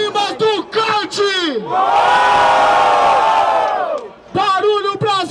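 A crowd at a rap battle cheers and roars in one loud, sustained burst lasting about two seconds. An MC's amplified voice calls out just before and right after the roar.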